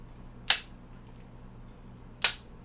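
Small torque wrench set to 8 inch-pounds breaking over with two sharp, crisp clicks about two seconds apart, close and distinct against a quiet background.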